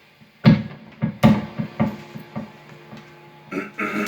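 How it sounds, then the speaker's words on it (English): A guitar stand topples over near a Gibson Les Paul R9 reissue, giving a sharp clatter and a string of knocks and bumps over about three seconds, with a brief guitar-like ring at the end. "There goes my stand."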